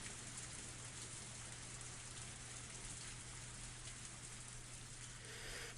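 Torrential rain pours in the visual novel Higurashi When They Cry, a dense, constant hiss of heavy downpour at low volume, even throughout with no talking.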